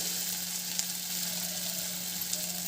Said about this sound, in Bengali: তেল গরম হয়ে গেছে তেল দিয়ে দিয়েছি আর এই কোপ্তাগুলো এভাবে দিয়ে দেবো